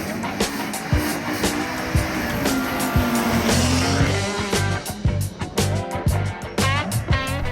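An Audi quattro four-wheel-drive rally car runs at the historic Elba rally in 2024, its engine roaring loud and close with revving surges and gear changes over steady road and crowd noise.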